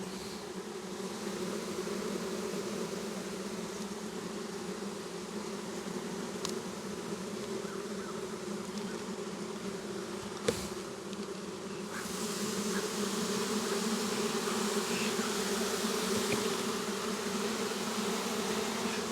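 Many honey bees buzz steadily in an open hive box full of bees, making a dense, continuous drone that swells slightly in the latter half. It is close and even, with one brief knock and no speech.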